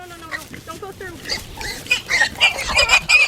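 Pigs squeal sharply after bolting into an electric hot wire on a farm, shrill cries rising and repeating over a few seconds, with people's voices exclaiming nearby.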